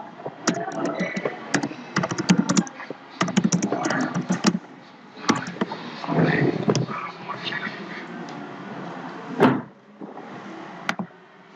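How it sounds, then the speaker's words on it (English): Rapid clicking of computer keyboard keys in bursts during a website-builder tutorial, close and moderately loud, with pauses and a voice talking between some bursts. "just type this one"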